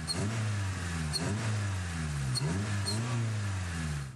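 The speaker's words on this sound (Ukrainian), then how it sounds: "Це гуркоче двигун зовсім не надпотужного спортбайка, а моторикші." A three-wheeled tuk-tuk motor rickshaw in Thailand rumbles steadily up close, its small engine droning with slight rises and dips in pitch and no talk.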